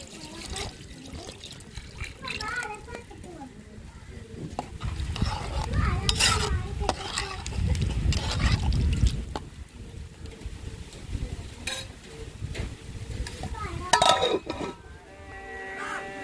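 Fish curry gravy boiling in a pot while being stirred, a steady bubbling, sizzling bed with clinks and scrapes of the spoon, close and fairly loud, swelling in the middle, with brief voices.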